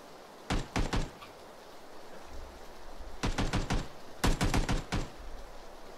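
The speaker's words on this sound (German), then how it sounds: "Schuss." Gunshots from the battle royale game PUBG ring out in tight bursts: a quick pair and a triple early on, then two rapid volleys of four to five sharp cracks, loud and close with no talk.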